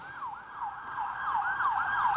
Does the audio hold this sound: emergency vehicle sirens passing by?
yes